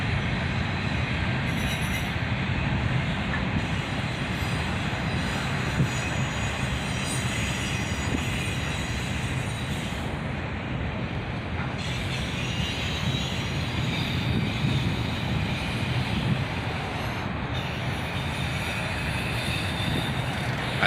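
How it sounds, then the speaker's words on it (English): A southbound CSX manifest freight of boxcars behind six-axle locomotives rolls by in a long, steady rumble, with faint wheel squeal and rail clatter carrying through from a moderate distance. "Now a big string of boxcars. A southbound manifest with all 6-axle power."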